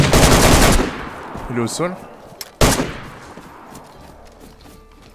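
Gunfire in the DayZ video game: a loud, fast burst of automatic shots opens the clip, followed by a brief spoken remark and then another single sharp, close shot with a fading echo.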